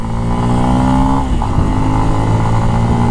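A motorcycle accelerates hard on a road, its loud, close engine note rising in pitch, easing briefly, then pulling strongly again with no talk over it.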